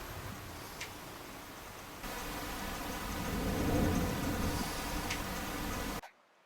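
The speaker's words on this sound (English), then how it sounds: "It's horrible weather outside. It's pouring with rain." Heavy rain pours steadily outside at three in the morning during a thunderstorm, a dense, continuous hiss that swells louder midway before cutting off abruptly; no distinct thunder crack stands out.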